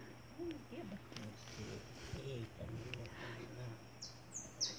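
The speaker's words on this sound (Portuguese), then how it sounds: "como é gostoso ouvir os cantos dos pássaros." Soft bird chirps and calls outdoors, including a canary, faint and scattered, mixed with low background rumble and some muffled talk.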